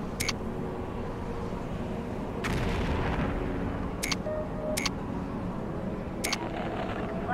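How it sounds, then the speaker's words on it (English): Airstrike explosions in the MechCommander 2 game boom and rumble in a steady low roar, with several sharp cracking impacts spread across the stretch. "Airstrike confirmed."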